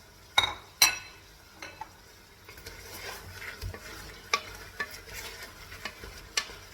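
Chicken drumsticks in a spiced sauce are stirred in a pan, a few sharp utensil scrapes and clinks standing out early, then softer stirring strokes over a low sizzle.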